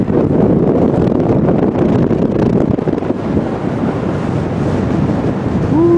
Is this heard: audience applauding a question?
no